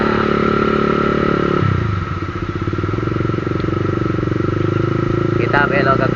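A Honda CBR 150 CBU motorcycle engine drones while being ridden on a wet road, a loud, close, buzzy note that drops as the revs fall and then holds steady, with a voice speaking briefly near the end.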